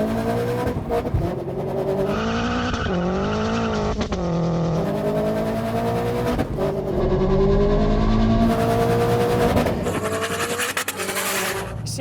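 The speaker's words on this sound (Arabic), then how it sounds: "دوس لعيونكم تشوفوا قوة السيارة، تسمعوا صوتها." A tuned 725-horsepower Toyota 86 engine revs hard and loud, its pitch rising and falling repeatedly as it's pushed, with a steady throaty roar throughout.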